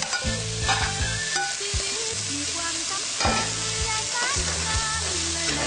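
Pork and vegetables sizzle and crackle loudly in a hot pan, with repeated scraping and stirring strokes of a utensil breaking up the steady frying hiss.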